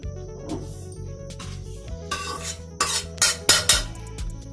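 Metal spoon scraping and clanking against a pan as roasted semolina is scooped out, soft rubbing at first, then louder sharp scrapes and knocks toward the end, close up with no talking.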